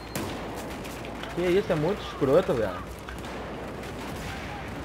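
Several loud 12-gauge shotgun blasts ring out during Battlefield 4 gameplay, arriving as booming shots over a background of battle noise, while a player talks and exclaims over the firing.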